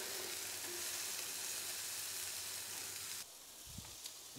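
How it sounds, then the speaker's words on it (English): Sausage fries on a Blackstone griddle outdoors at a racetrack with a dense, loud sizzle that cuts off abruptly, leaving a quieter low rumble for the final second. "my sausage is about done"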